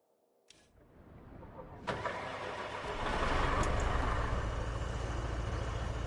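Heavy crane truck engine, the mule, in the RoadCraft video game on PS5, starting with a sharp transient and then building into a loud, steady rumbling drone that holds to the end, with no talk.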